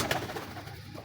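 Pigeons of the Ferozpuri breed coo softly and close by in a short, low burble with no voices over it.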